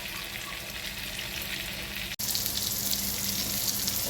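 Pointed gourd pieces coated in turmeric and salt fry in hot oil, a steady continuous sizzle heard close and even, briefly interrupted by a tiny gap before resuming.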